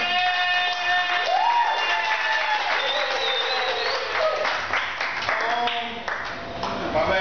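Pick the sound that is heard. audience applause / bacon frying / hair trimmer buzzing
audience applause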